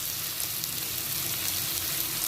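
Cut potatoes frying with onions in a pan for a drumstick-and-poppy-seed dish, a continuous even sizzle at moderate volume with no voices.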